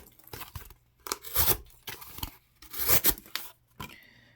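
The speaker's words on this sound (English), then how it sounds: "All right, let's cut some cardboard." CRKT A.B.C. folding knife slicing through cardboard, a series of close, scratchy tearing cuts in several bursts with short pauses between them.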